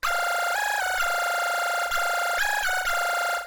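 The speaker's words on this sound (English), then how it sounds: "Lead bubble has a bubble effect made with a phaser over here. Just a phaser with a really high rate like this" Bubbly synth lead for tech house, a phaser at a very high rate making it warble, playing a short repeated melodic phrase of sustained notes, loud and alone with no talk.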